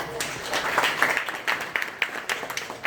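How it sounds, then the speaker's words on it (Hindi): Mourners gathered at a funeral procession clap loudly in a sustained, uneven burst of hand claps, with voices murmuring beneath and a few sharper claps standing out. "एक बार मैं चाहूंगा ये भाई से जोरदार ताली मारो।"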